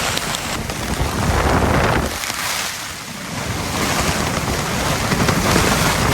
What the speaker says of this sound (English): Here we are in the rain.